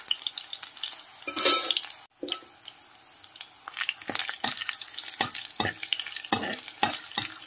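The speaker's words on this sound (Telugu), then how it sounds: "పచ్చిమిర్చి కొంచెం ఫ్రై అయిన తర్వాత నేను పచ్చిశనగపప్పును యాడ్ చేస్తాను" Green chillies fry in a pan with a soft, constant sizzle, broken by repeated scraping and stirring clatters from a utensil, close and clear with no voices.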